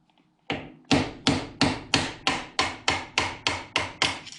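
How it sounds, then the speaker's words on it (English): Hammer taps on a screwdriver set in the notches of a Fox shock's spanner ring on a 2021 Can-Am X3 XDS, loosening it: eleven sharp, evenly spaced metallic knocks, close and loud, with no talk. "I like a hammer and a screwdriver. You just stick that screwdriver in the notches,"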